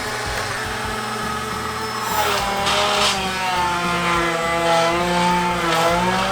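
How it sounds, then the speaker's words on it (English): A squash blender running flat out at its fastest setting, a loud, close, sustained motor whine with rising and wavering pitch and a harsh buzzing edge that grows stronger partway through. "It is the squash blender."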